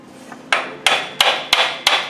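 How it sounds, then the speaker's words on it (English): A hammer tapping a crankshaft seal into a 300Tdi engine: five sharp, evenly spaced metallic taps about a third of a second apart, close and loud, each with a brief ringing decay. "I can tap it in with a hammer"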